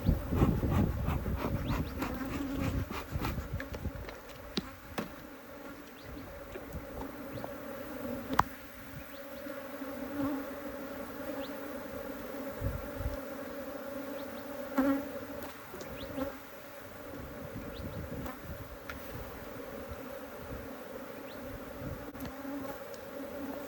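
Africanized honey bees buzz steadily around an opened, tipped-over hive, a dense continuous hum with individual bees droning close past the microphone.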